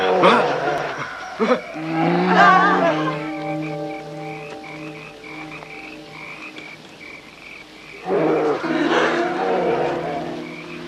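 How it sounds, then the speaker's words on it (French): A bear roars in a French-dubbed comedy film at a summer camp, giving deep, croaking, drawn-out growls in two long bursts with a quieter stretch between them, set against outdoor background sound. "Ça doit être un ours."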